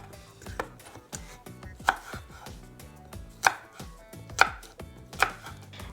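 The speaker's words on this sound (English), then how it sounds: "So you wanna cut the apples in really tiny, just bite-sized pieces." A knife chops apples into small bite-sized pieces on a cutting board, with a string of irregular close-up knocks and crisp crunches, several landing harder and louder than the rest.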